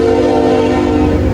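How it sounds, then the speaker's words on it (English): A passing train sounds its whistle loudly and continuously, a steady sustained blast over rumbling rail noise, heard close by from the bank of a central Pennsylvania river. "Crazy trains going by."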